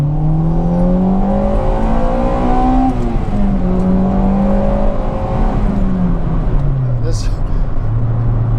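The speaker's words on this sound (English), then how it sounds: "The way that engine pulls as soon as the VTEC kicks in, and it hammers round to its red line" A 1.8-litre Honda Integra Type R engine revs hard toward its red line, its rising and falling engine note loud and sustained, with a person talking over it throughout.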